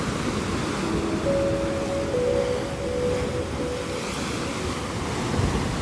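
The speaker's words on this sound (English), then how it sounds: "The waves are very dirty today. Well, not dirty, but they're kicking up a lot of sand." Ocean surf at a San Diego beach at sunrise, muddy waves breaking and churning up sand, makes a steady, loud broadband roar with continuous wash and no pauses, mixed with some wind noise.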